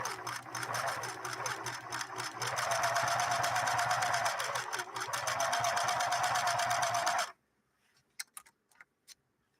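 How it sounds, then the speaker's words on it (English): A Singer 6212C sewing machine stitches a row with a steady, close, whirring mechanical chatter that holds for about seven seconds, then stops, leaving a few soft clicks. "We'll do our next row of stitching"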